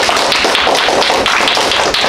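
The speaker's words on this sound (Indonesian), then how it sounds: "Okey, tepuk tangan." A Year 4 class claps hands together in a continuous, dense patter of many overlapping claps, loud and close throughout.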